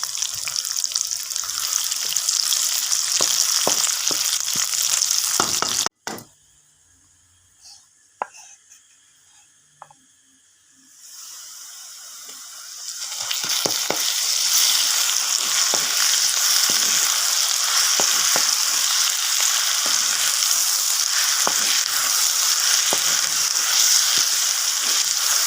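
Onions drop into hot oil in a pan and fry with a steady, loud sizzle. A brief quiet gap comes before the frying resumes and carries on without a break, with no talking.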